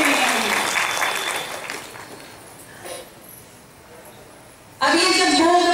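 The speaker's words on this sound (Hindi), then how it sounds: "तो एक बार अपने लिए ताली तो बजाओ" A woman addresses an audience at a Brahma Kumaris spiritual talk, her voice fades to near quiet, then a large crowd bursts into loud, sustained applause that fills the final second.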